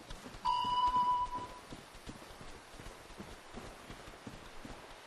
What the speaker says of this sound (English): all their footstep noises are a little unsettling